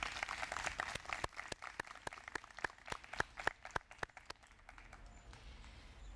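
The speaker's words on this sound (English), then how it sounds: "Let's give them all a round of applause." Applause from an audience at a Grade 12 induction ceremony, a steady patter of many hands clapping together that holds for several seconds and then thins out toward the end.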